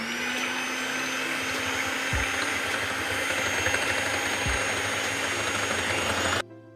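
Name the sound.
electric beater beating egg whites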